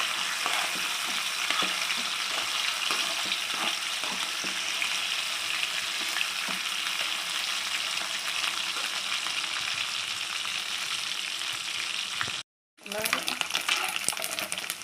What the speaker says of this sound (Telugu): ఇప్పుడు మనం ముందుగా ఉడకబెట్టి పెట్టుకున్న రొయ్యలన్నీ ఆయిల్లో వేసేయాలండి. వేసి అన్నీ బాగా ఎర్రంగా వచ్చే వరకు వేపేసుకోవాలి.